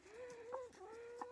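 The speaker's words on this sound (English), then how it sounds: "there's the second rooster, giving the alpha his space, making himself big" A rooster in a farmyard flock lets out a short, close, moderately loud crowing call lasting just over a second, with no voices over it.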